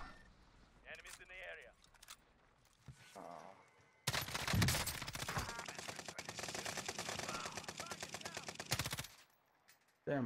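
Rapid automatic rifle fire from an M13 in Call of Duty Warzone on Rebirth Island rattles in a loud sustained burst of several seconds, following quieter game sounds and a player talking.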